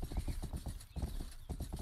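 Horse hooves clip-clop steadily in a medieval-setting open-world video game, a brisk repeating rhythm of close, loud hoofbeats with no talk over them.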